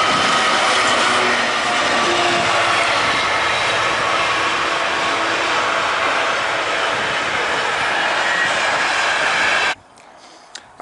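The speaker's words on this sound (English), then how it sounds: "we'll just wait for this train to go by" A train rumbles past close by, a loud steady broadband roar that holds for nearly ten seconds before cutting off abruptly into quiet.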